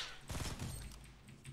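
Rapid gunfire in the video game Fortnite, a short burst of several quick shots in a tight cluster followed by a fainter trailing rattle, fairly quiet and with no speech.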